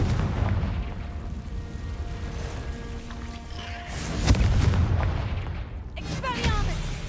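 A Confringo spell explodes in the Hogwarts Legacy video game, a deep booming blast rising mid-clip over ongoing low rumble, followed by crackling magical effects, with a voice calling out.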